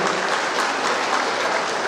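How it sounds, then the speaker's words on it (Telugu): Dense, steady applause from a crowd at an outdoor public meeting for a ration card distribution, welcoming a visiting minister, sustained and loud throughout without a break. "అందరూ కూడా గట్టిగా చప్పట్లతో లక్ష్మణ్ గారి స్వాగతం పలకాలని కోరుకుంటున్నాం"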